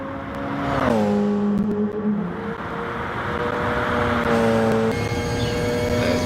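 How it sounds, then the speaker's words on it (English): A Porsche race car in GT Sport roars through the gears, its engine note dropping sharply on a shift then climbing steadily as it revs again, loud and continuous, with a quick shift near the end. "What a magnificent automobile there that we're driving"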